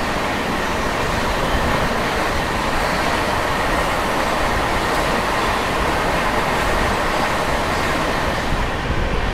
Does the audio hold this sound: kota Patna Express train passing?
yes